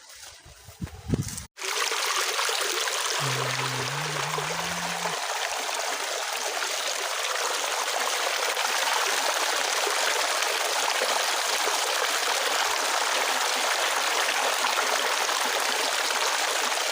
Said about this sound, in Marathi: यहाँ पे और एक धबधबा है और ये देखने में काफ़ी बड़ा है